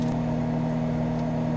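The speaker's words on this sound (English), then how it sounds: "That noise you hear is a microwave finishing off my broccoli." A microwave oven hums steadily while finishing a batch of broccoli in an RV kitchen, a close, even drone with a low tonal buzz and no other sounds.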